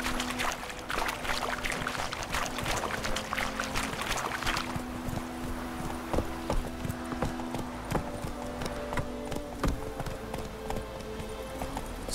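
Horse hooves clip-clop in a steady trotting rhythm in The Witcher 3, close and clear over quiet game ambience, with a brief burst of other clatter early on.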